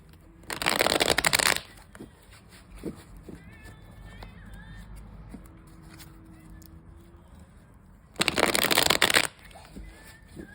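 Tarot cards are shuffled in two quick bursts of riffling close to the mic, separated by several seconds of quiet handling and faint background sounds.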